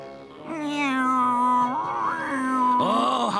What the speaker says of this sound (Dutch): Hou op met dat geklaag, zelfzuchtige kat.